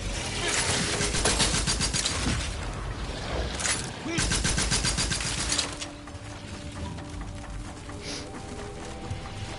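An explosive gun firing in the video game The Outer Worlds 2, loud rapid bursts of shots in quick strings broken by brief pauses, with a quieter stretch of game ambience afterward.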